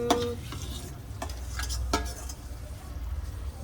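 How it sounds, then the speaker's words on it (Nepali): Fried eggplant is stirred into a pan of bubbling gravy, giving a steady close sizzle with a few sharp scraping stirs near the start and middle. "अब म अघि फ्राई गरेर राखेको बैगुनलाई राख्छु।"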